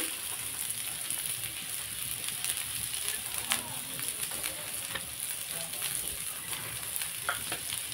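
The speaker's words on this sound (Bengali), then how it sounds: "পেঁয়াজ আদা রসুনটাকে আমি একটু প্রথমে ভেজে নেব।" Onion, ginger and garlic paste fry in a pan for a chicken snack, giving a steady, soft sizzle with faint stirring scrapes throughout and no clear talk over it.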